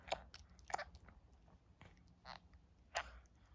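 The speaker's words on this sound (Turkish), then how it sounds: "Kıtır kıtır kıtır kıtır mama yiyor." A pet crunching dry kibble at home, with irregular bites and crunches close to the microphone and short gaps between them.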